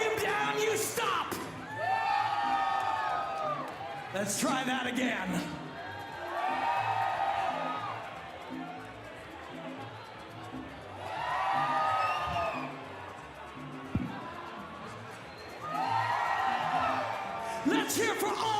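A crowd at a Karate Combat fight event, cheering Dominican fighters, screams and cheers in several loud surges that rise and cut off, with an announcer's voice speaking in the gaps.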